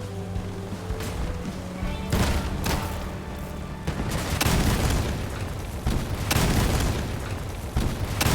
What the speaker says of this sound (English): Sorry about that last explosion there.